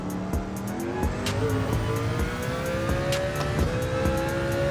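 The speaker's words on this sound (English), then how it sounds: "I think the GT500 is a better car, though. Just overall, I like what it sounds like." Ford GT500 race car engine in Gran Turismo 7, a steady loud drone with rising rev sweeps and gear-shift steps, plus a few sharp clicks, running continuously without talk.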